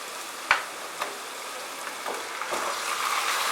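Marinated chicken goes into a pan of onions fried on medium heat for pepper chicken. A soft thump is followed by a fairly quiet sizzle that swells gradually, with a light stirring tap.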